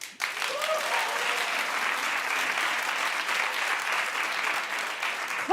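Studio audience on The Wendy Williams Show, a daytime talk show, breaking into steady, dense applause that holds loud and even throughout, with no voices over it.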